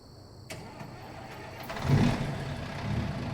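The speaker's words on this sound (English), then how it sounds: "you'll hear this engine here. I believe it's an ISX Cummins. So you'll hear it start up right now." A Cummins ISX diesel truck engine in American Truck Simulator cranks after a click, catches and rises into a low, rumbling idle that settles and keeps running close by.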